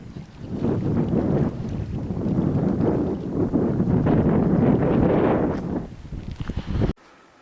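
Strong late-winter wind near Loch Turret buffets the microphone in loud, rumbling gusts that keep rising and falling, then cut off abruptly near the end, with no voices.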